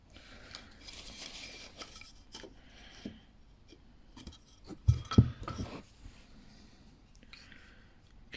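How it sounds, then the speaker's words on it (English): A chisel is sharpened by hand in a quiet room, with a series of scattered scraping strokes and a few louder rubs and knocks near the middle, and no talking. "Keep sharpening my chisel,"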